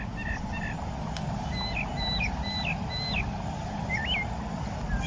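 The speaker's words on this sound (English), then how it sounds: "we are currently listening to tundra swans, bald eagles, mockingbirds, sparrows, and lots of other great birds." Distant wetland birds, including tundra swans, call in short chirps and honking notes over a steady broadband rush of wind and outdoor ambience.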